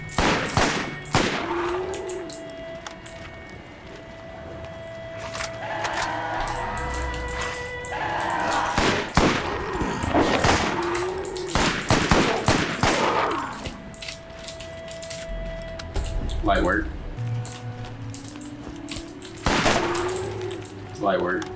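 Bursts of light machine gun fire from Borderlands, with rapid clattering volleys recurring throughout alongside game sound effects and someone talking over the action.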